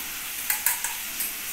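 Hot oil sizzling in a pan on a lowered gas flame before eggs go in for an omelette, a steady bright hiss with four or five sharp crackling pops, close and alone.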